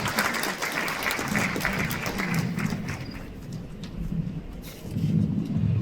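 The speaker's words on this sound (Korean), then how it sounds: "큰 박수로 맞아주시기 바랍니다." Audience applause fills a hall at a lawmaker's legislative report meeting in Cheongju, a dense, steady wash of clapping that stays loud throughout with a low murmur of voices beneath it.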